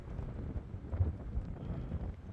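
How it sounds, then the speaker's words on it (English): Wind gusting at a truck camp in southern Alberta, a steady low rumble with buffeting surges across the whole stretch, close to the microphone and with no voices. "the wind's blowing from that way"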